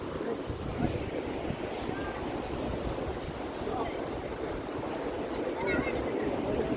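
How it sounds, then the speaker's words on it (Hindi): Steady wind and crashing sea waves at the Dona Paula viewpoint in Goa during monsoon form a dense, continuous roar with gusty microphone buffeting, loud and unbroken throughout. "और जो हवा है, बहुत अच्छी हवा चलती है यहाँ पे।"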